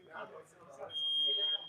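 A timer alarm buzzes with a steady, loud electronic tone for about half a second during a class session, while people talk underneath and around it.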